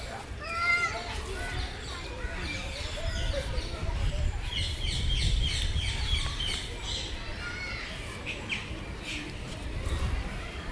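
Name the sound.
birds in the zoo aviary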